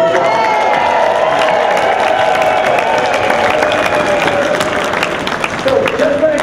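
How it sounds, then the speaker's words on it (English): Loud audience applause with some cheering from a crowd at an advocacy gathering, a dense, continuous roar of clapping with voices mixed in. "So give them a big round of applause."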